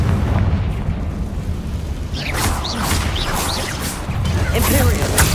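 The Confringo fire spell from Hogwarts Legacy gives a deep, rumbling blast with crackling bursts and whooshing streaks over a continuous low roar, while a voice talks over it.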